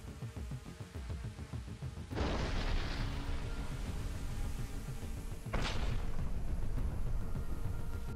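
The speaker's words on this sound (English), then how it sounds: "they came under fire from Russian artillery while they were walking" Russian artillery fire lands on Ukrainian infantry in combat, with two heavy booms about three seconds apart rising out of a constant loud rumble and rushing noise.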